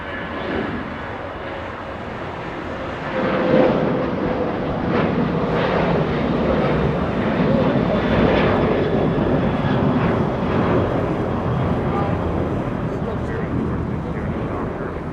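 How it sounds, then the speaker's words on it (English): A United Boeing 737-800 departs Los Angeles International Airport, its broad engine roar swelling after a few seconds and then holding steady and fairly loud, with speech over it at times. "United 1925 heading to Denver, Colorado, 737-800."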